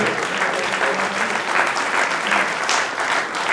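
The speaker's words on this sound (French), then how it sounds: "vous pouvez tous les applaudir" Steady, dense applause from an audience at an oyster-opening contest award ceremony in Charente-Maritime, continuous and fairly loud throughout.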